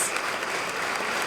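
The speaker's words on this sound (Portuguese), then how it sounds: "por favor, se levantem para uma salva de palmas" Olympic athletes receive steady applause at an expo event in Santos, a dense, continuous wash of clapping from a crowd that holds even throughout.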